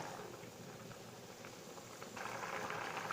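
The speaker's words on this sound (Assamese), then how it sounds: "এইদৰে উতল অহাৰ পাছত অকণমান সময় তাক ঢাকনখন মাৰি উতল আহিবলৈ দিব" Water comes to a boil over a gas flame in a pot with its lid on, ready for a boiled fish dish. It makes a faint, steady bubbling hiss that grows a little louder and busier toward the end.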